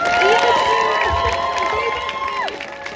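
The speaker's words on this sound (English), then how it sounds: "Can we please get a round of applause for those brave and amazing students" Protest crowd at a pro-Palestinian demonstration at Leeds University cheering and applauding, with whoops and shouting that are loud and close at first, then ease off toward the end.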